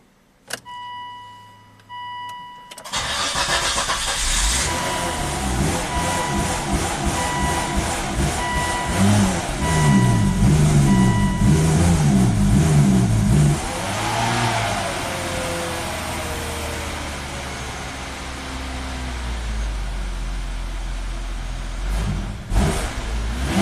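A Volvo XC90 engine cranks at length with a steady rhythmic starter churn, briefly catches and revs, then dies out into quiet, loud and close with no talking.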